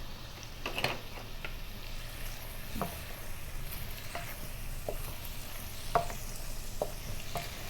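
Soft, steady sizzling of shredded tuna frying in sambal in a pan over low heat, with occasional light scraping taps as it is stirred, no voices.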